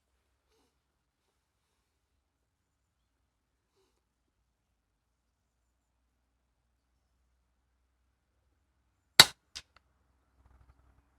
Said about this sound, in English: So load up. I'm going to shoot at 16 times magnification.